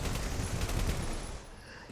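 Gunfire in a Minecraft game, a dense rapid fusillade of shots crackling continuously and loudly before tapering off near the end.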